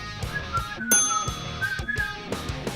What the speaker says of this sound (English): Can you whistle? I can.